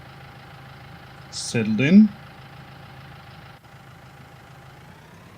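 A tractor engine idles in Farming Simulator 19 as a steady, even drone that runs the whole time, with a short burst of a man's speech over it early on.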